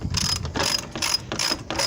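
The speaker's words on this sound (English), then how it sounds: "So these are 8mm nuts on these, so let's use a ratchet or a wrench," A ratchet turning 8mm nuts on a 1994 Ford Ranger during radiator and fan work, heard up close as rapid bursts of sharp clicking strokes repeated about four times, with no talk.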